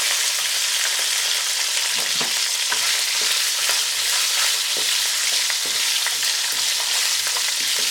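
Ginger, garlic and dry spices fry on a high flame, giving a steady, loud sizzle with scattered sharp crackles and splatters and the occasional stirring scrape throughout, with no voices.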